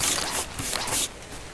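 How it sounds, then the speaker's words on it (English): Acid rain pouring in the game Ark: Survival of the Fittest, a dense broadband hiss that swells and dips in two bursts before settling into a steadier, softer wash. "Acid rain, so we're just gonna chill out right now."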